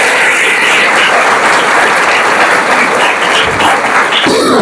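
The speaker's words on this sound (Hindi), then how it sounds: "आज की इस इबादत में हम अपनी सिस्टर्स को और ब्रदर जी को भरपूर तालियों के साथ खुशामदीद कहते हैं" A congregation at a worship gathering welcomes sisters and a brother with loud, dense, sustained applause that fills the room without a pause.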